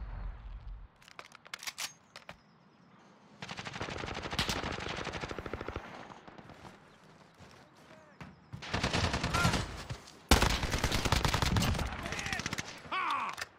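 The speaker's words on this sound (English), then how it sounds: "Firing, go firing." Bursts of automatic gunfire in a Call of Duty Modern Warfare multiplayer match: a short opening burst, then sustained rattling volleys at close range, with brief pauses between them.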